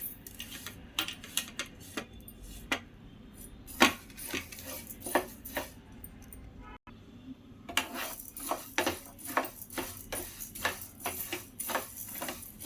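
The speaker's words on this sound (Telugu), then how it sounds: "ఇప్పుడు మెంతులు కూడా వేస్తాను." Dry fenugreek seeds roast in a pan for rasam powder, with an irregular clatter of a spatula tapping and scraping the metal and seeds rattling close by.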